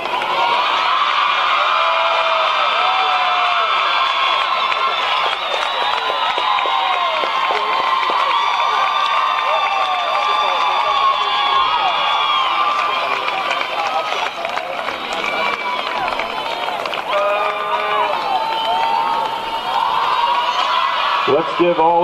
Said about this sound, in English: Let's give all of these outstanding student-athletes a round of applause